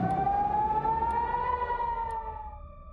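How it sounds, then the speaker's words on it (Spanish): An air raid siren sounding a missile warning wails steadily, its tone slowly rising then holding, loud and continuous before fading slightly toward the end, with no voices over it. "empezamos a escuchar esta sirena."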